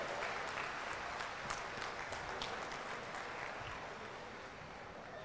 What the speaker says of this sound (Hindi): एक बार जोरदार ताली बजाकर आदरणीय मुख्यमंत्री जी का स्वागत करें